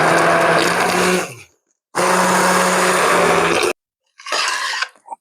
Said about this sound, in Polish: Teraz zmiksuję jeszcze mocniej, żeby był ładny, gładki krem z tego.